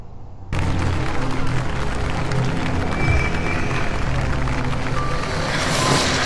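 A crowd in a TV episode bursts into loud cheering and applause after a brief quiet start, a dense, steady roar sustained to the end with a few scattered shouts over it.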